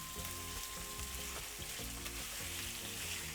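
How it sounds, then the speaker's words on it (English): Sausages fry steadily in a pan, a dense continuous sizzle with faint stirring clatter, close and alone without any voices. "we're going to fry them until they're nice and brown and crispy"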